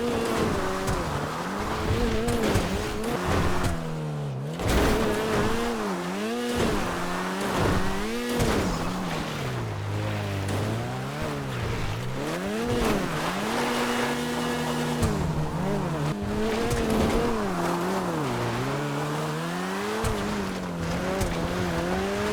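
Engine of a Maxwell Vagrant (Ariel Nomad-style) car driving along a road in GTA, a steady loud hum that rises and falls in pitch through gear changes and revs, with brief tire noise, no talk.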